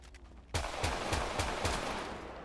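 Rapid gunfire in GTA 5, a run of about six sharp, loud shots at a steady rhythm after a half-second lull, close and ringing out over a dense background.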